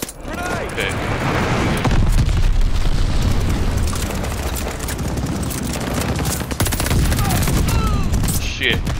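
In Call of Duty Vanguard multiplayer, dense gunfire and heavy booming grenade and bomb explosions roar without a break, loud and close, with brief voice chatter mixed in.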